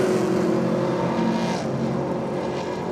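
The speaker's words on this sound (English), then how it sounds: "Blown 400 cube small block. Taking on the supercharged Datsun." A blown 400 cubic inch small-block race car runs against a supercharged Datsun at a drag strip, a loud, steady engine roar held at full power for the whole stretch.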